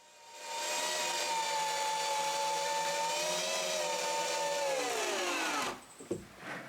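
Power driver sinking an 8-inch screw into a wooden beam while building a cottage shelter, one long steady whining drive of about five seconds that winds down at the end, loud and close, followed by a brief clatter.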